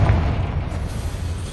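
A Confringo fire spell bursts in the Hogwarts Legacy video game, a single deep boom that opens loud and then fades into a rumbling tail, with no talk.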